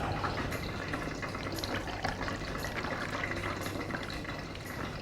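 Dahi vada are dipped into a bowl of water one after another, producing a steady close sloshing and trickling of liquid with no voices.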